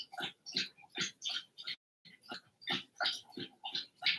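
A dog laps drinking water in quick, rhythmic wet slurps, close and steady, with one brief pause partway through.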